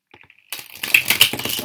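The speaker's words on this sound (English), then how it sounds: "I just shuffled this all upside down." Tarot cards shuffled by hand, a few faint taps and then a dense burst of riffling, flapping card noise, close and fairly loud, with no voice over it.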